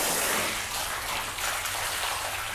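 Water spraying onto a car panel coated with spray sealant: a steady, loud, close hiss of spray hitting the surface, with no break from start to finish.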